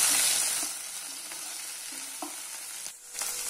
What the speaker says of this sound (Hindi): अब पैन में हम डालेंगे हमारी कटी हुई भिंडी को। भिंडी को हमें इसका स्टिकीपन, चिपचिपापन निकलने तक फ्राई कर लेंगे।